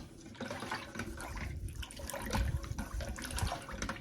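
Bone broth stirred in a pot, continuous liquid sloshing and swirling with soft clunks of the utensil against the sides, close and steady throughout.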